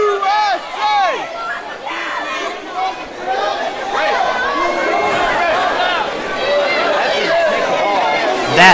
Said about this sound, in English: my attempts to rally the crowd towards Bear St. Pierre by chanting USA